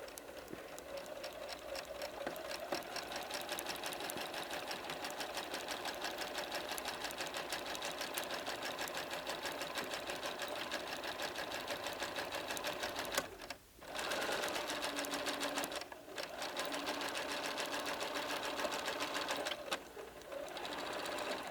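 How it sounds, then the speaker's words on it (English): A sewing machine stitches quilt blocks together in a steady, fast, continuous whir that runs alone for nearly the whole stretch, with a couple of short pauses near the end. "So we're going to sew this together."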